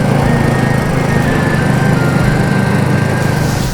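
Royal Enfield Himalayan motorcycles riding along, a loud, steady engine drone with a constant rough rumble that holds throughout.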